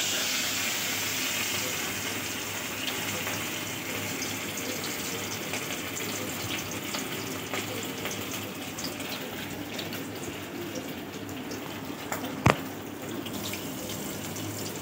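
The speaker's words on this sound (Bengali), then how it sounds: "মাছগুলো ভাজতে দিয়েছি" Fish lightly frying in hot oil give a continuous, even sizzle and hiss, with one small sharp pop near the end.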